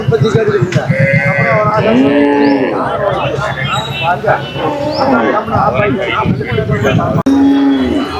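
Young heifer calves call out at a native cattle market in Palayakottai, with close, repeated bleating moos under someone talking.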